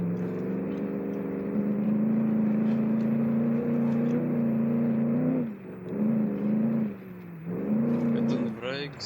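A 1950s pickup truck engine in BeamNG droning steadily under load, holding a strong low tone that dips briefly twice as revs drop and climb again, with someone talking over it.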